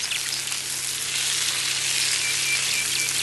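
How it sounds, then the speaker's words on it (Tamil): Chopped onions sautéing in hot oil in a pan for chicken fried rice, a loud continuous sizzle with no talking. "சேர்த்துட்டு கொஞ்சம் கலர் சேஞ்ச் ஆகிற வரைக்கும் இதை நல்லா வதக்கிக்கலாம்"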